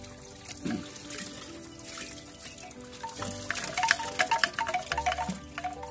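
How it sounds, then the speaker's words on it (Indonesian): A Balinese rindik water ornament trickles and splashes with water running steadily, with light clinking knocks scattered through it, close and fairly quiet with no voices. "Nah, rindik balinya sudah mulai bunyi."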